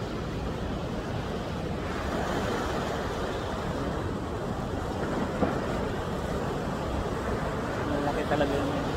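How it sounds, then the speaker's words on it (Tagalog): Big ocean waves breaking at Muriwai beach in New Zealand at high tide, a continuous roaring wash of surf close by with wind buffeting the microphone and a voice talking over it. "Ayan, laki ng alon dun."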